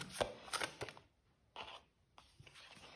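Tarot card deck being shuffled by hand, short papery bursts of riffling and scraping in three clusters separated by brief pauses, close and fairly quiet.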